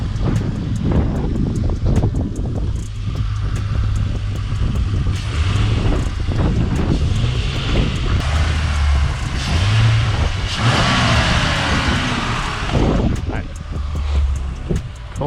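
A Ford Mustang fitted with a throttle-body spacer starts and settles into a steady idle, a continuous low engine rumble with broadband hiss running throughout, some voices faintly mixed in.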